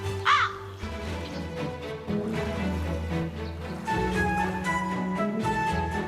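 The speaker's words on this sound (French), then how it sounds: "Les corbeaux sont omnivores." Crows in an animated animal cartoon give harsh caws, one loud call near the start followed by fainter cawing, all over a continuous musical score.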